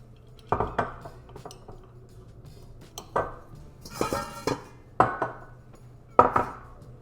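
Mixing bowl handled during sourdough bread making, giving several sharp clanks and knocks spaced irregularly, close and fairly loud, with no talking.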